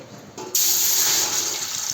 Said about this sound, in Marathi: 6 लिटर पाणी टाकायले, आदन टाकायले.